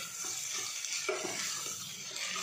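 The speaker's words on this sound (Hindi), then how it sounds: "इसको हम करीबन एक मिनट के लिए इस तरीके से घुमाएंगे लो फ्लेम पर ताकि जो है प्याज जो है वो कच्चा ना रहे" Onions stirred and sautéed on a low flame inside a pressure cooker make a steady soft sizzle, with light scraping stirs recurring throughout and no talking.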